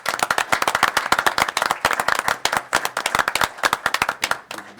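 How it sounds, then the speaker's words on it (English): A small group at a board meeting claps briskly and unevenly for a few seconds, close by, with no cheering or talk. "Ask for a round of applause for Mr. Coffey."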